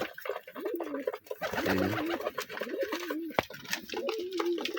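A Kaldam pigeon coos in a loft, repeated low rolling coos close by, with faint bird chatter and a distant voice in the background.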